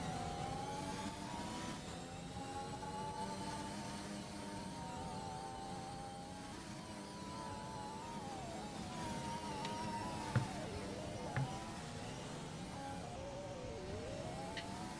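Racing car engines in an F1 video game at a Las Vegas round, a steady continuous drone of revving and accelerating engines running throughout, with a couple of brief sharp clicks near the end.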